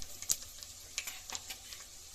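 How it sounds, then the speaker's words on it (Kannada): Mustard seeds and cumin spluttering in hot oil while cooking tomato bath, with faint, sparse sharp pops and crackles scattered over a quiet sizzle. "ಸ್ವಲ್ಪ ಈಗ ಸಾಸಿವೆ ಹಾಕೋಣ, ಚಟಪಟ ಆಗ್ತಾ ಇದೆ"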